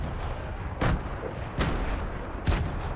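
Grenade explosions in Fortnite: three short, punchy booms spaced about a second apart over a low, steady background rumble, with no voices.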